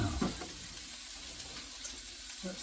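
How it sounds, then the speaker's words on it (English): Food in a cooking pot alongside sausage, bubbling and sizzling as a steady watery hiss with faint pops, heard close and moderately loud without speech. "That's still bubbling."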